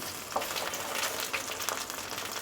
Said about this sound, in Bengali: আমি এগুলিকে এপিট উপিট করে ভালোভাবে ভেজে নিচ্ছি।